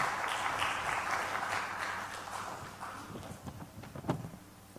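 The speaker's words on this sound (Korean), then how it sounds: "우리 나올 때 박수로 좀 환영하는 시간 가지면 좋겠어요" A church youth congregation applauds to welcome a singer, with a dense wash of clapping that slowly fades toward a few scattered claps.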